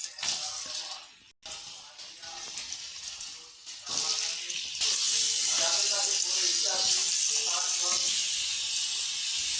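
Potatoes hit hot oil with dried chilli and black cumin, setting off a loud hissing sizzle that swells and holds steady to the end, with someone speaking over the early part.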